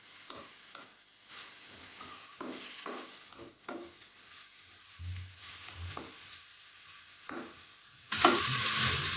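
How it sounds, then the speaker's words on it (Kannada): Chopped onions frying in a pan, with a soft crackling sizzle and occasional stirring scrapes throughout, growing to a louder, brighter hiss near the end. "ಕಟ್ ಮಾಡಿದ ಈರುಳ್ಳಿಯನ್ನು ಹಾಕ್ತೇವೆ. ಚೆನ್ನಾಗಿ ಫ್ರೈ ಮಾಡ್ಕೊಳ್ಳಿ ಇದನ್ನು."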